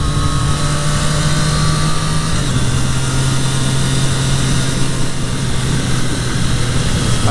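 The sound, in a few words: Triumph Street Triple 765 RS motorcycle engine, throttle on and off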